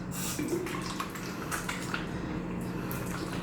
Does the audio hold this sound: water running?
yes